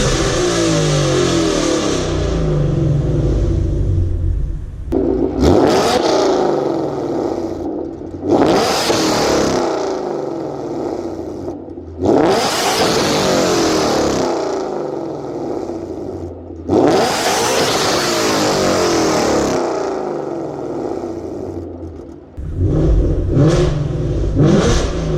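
A car with a very loud aftermarket exhaust revved repeatedly, about five sharp surging blips rising and falling over a rumbling idle, close and loud with no voices.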